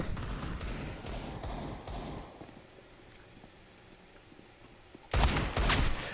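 Gunfire bursts in Counter-Strike, with a dense rattle early that thins out, then a loud fresh burst near the end; no talking.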